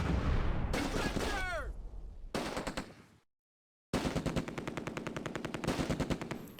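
Vickers machine gun firing in the Close Combat: A Bridge Too Far wargame during the Operation Market Garden fighting, with rapid rattling bursts broken by a brief silence, then a sustained stream of shots near and loud.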